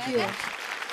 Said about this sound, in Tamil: ஒரு பலமான கைத்தட்டல் நம்மளோட சந்தோஷ் அண்ட் மால்விகா